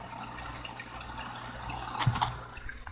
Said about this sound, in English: is how I add water back to the fry babies